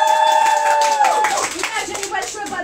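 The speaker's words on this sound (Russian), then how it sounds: "Аплодисменты Ларисе!" A group claps, mixed with voices, at an awards ceremony; a sustained tonal sound opens the moment before the clapping carries on.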